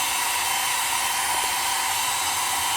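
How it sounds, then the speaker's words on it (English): Heat gun warming a car part before painting, a steady, loud broadband blowing hiss with a faint motor hum, running continuously throughout with no talk. "Heat gun"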